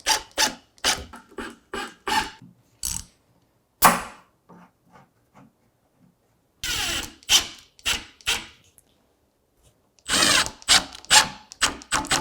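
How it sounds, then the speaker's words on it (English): A power drill drives screws into the base of a handmade serpentine chest of drawers in short bursts of whirring, with pauses between them and several quicker runs near the end, alone and close by. "we can pop our screws in from before, which will bring it into the correct orientation"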